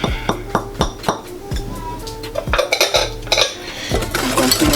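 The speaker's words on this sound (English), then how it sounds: "Just going to whisk this in. This and my cornstarch." A whisk beats cornstarch into a mixture in a bowl, giving fast, rhythmic metal clinks and scrapes against the bowl that stay loud and close throughout, with no talking.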